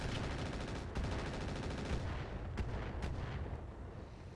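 Weapons firing on a Vulcan mech in the video game RogueTech, a dense, rumbling barrage of booming impacts and rapid shots that runs steadily and loudly, with no talking.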